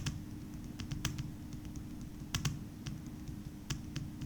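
Keystrokes on a computer keyboard while working in PowerPoint: scattered soft clicks in short irregular bursts, close up over a steady low hum, with no talking.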